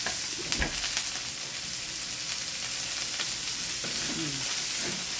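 Garlic and onion sauté in hot oil in a pan for pansit bihon canton, giving a continuous bright sizzle with a few scraping stirs, close up and without speech.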